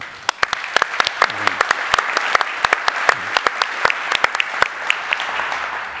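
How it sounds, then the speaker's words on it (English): An audience applauds steadily for several seconds, with a few sharper, louder claps standing out near the microphone. "Big applause to Stephan."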